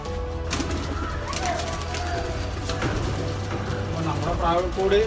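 Pigeons coo in a farmhouse coop where they have laid eggs, with soft repeated cooing set against a steady background hum while a person talks nearby.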